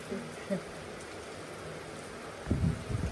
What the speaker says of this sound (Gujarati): મસ્ત વાતાવરણનો વરસાદ ચાલુ